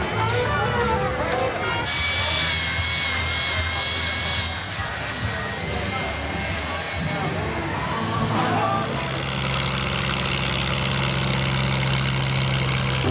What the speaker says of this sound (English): I gotta see the tractor pulls